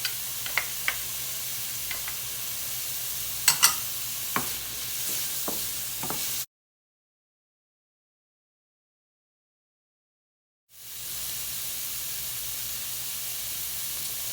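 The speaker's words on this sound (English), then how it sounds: "I'm gonna go ahead and add my garlic cloves" Garlic cloves sizzling in a pan while making chili, a steady close frying hiss with occasional stirring clicks, cut by a stretch of silence before the sizzle returns.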